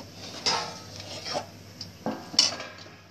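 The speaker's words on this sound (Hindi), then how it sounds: "इसे आहिस्ता आहिस्ता भी चाशनी ऐड कर देनी है" A utensil scrapes and knocks against a pan as sugar syrup is slowly added to roasted semolina halwa with dry fruits, with a few distinct clinks and soft stirring noises, close and otherwise quiet.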